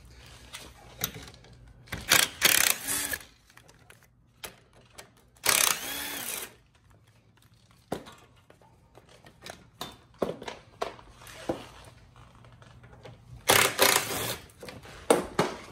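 A socket wrench ratchets out 8mm bolts from a cover on a Fiat 500 Abarth during a front-mount intercooler install, with bursts of clicking spread across a quiet garage background.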